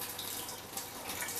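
Water pours out of a pot through a sieve in a kitchen while Akara pepper soup is being prepared, making a steady close rushing splash with no speech.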